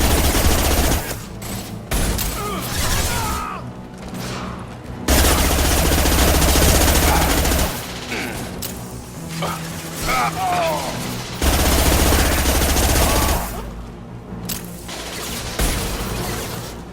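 Heavy, high-impact gunshots in the video game Mass Effect 2 fire in loud, repeated bursts across a busy combat soundscape. Voices and battle noise run underneath.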